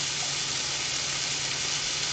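Bacon sizzling in a hot frying pan gives a steady, close, even crackling hiss that runs unbroken from start to finish, with no talking.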